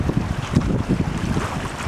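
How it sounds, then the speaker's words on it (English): Gusty wind buffets the microphone in uneven rumbling bursts, loud and close, with a broad rushing hiss throughout. "we got a warm, windy day today"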